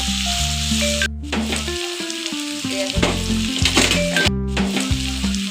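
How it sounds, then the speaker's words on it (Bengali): Sliced potatoes and onions fry lightly in oil, sizzling steadily under a prominent melodic music track with occasional brief breaks, close and fairly loud throughout. "আমি প্রথমে আলু ও পেঁয়াজ কেটে নিয়েছিলাম সেগুলো তেলে হালকা ভেজে নেব"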